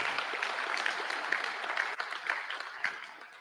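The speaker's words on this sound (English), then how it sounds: "And they deserve an applause, absolutely, absolutely." An audience at a talk in Durban applauds, with fairly quiet, steady clapping from a crowd, a few sharper claps standing out over about three seconds.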